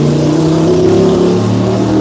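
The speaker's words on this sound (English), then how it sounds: "the loud mufflers here" A car engine revs loudly through a loud muffler in Mactan Newtown, a rough, close, sustained roar that rises and holds for about two seconds with no talking.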